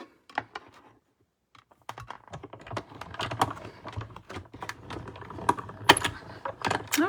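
Die-cutting machine cranking a die through Perfectly Penciled designer series paper: a steady run of dense clicks and mechanical rattling close by, starting after a short quiet gap and continuing to the end.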